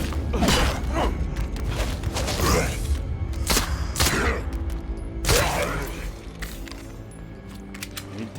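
Gunfire crackles through a State of Decay 2 fight in several sharp, loud bursts with gaps between them, mixed with clanking mechanical clatter.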